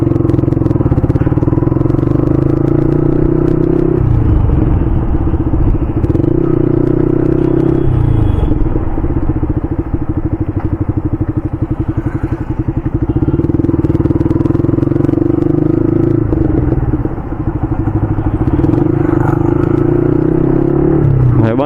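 A Hero Splendor motorcycle rides through Vadodara at night, its engine droning loud and steady up close with rumbling road noise and wind, the pitch dipping and rising briefly as the rider shifts and changes speed.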